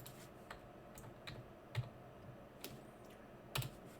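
Someone types an nmap command on a computer keyboard on a Kali Linux machine, producing sparse, irregular keystroke clicks close by, with a few louder taps standing out against quiet room tone.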